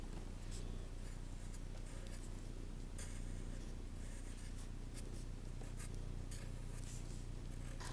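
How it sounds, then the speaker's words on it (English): A pencil traces over a drawing on paper, transferring lines for an anaglyph: quiet, continuous scratchy strokes in irregular bursts, close and alone. "Now I'll simply trace over the drawing with a pencil, being careful not to move it while I transfer the lines."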